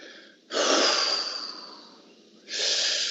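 A person demonstrates breathing with a forceful, airy inhale or exhale lasting about a second and a half that fades out, followed after a short pause by a second strong breath.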